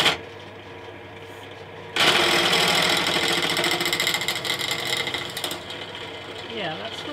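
A pillar drill chattering as it bores into a workpiece for a simple drill fence, a loud harsh mechanical rattle and whine that starts abruptly after a quieter motor hum and continues steadily, easing slightly toward the end.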